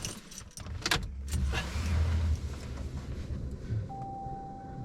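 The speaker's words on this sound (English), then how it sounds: "So if we start the car," Clicks and a jangle of keys, then a car engine turns over and settles into a low idle, ending with a steady electronic tone.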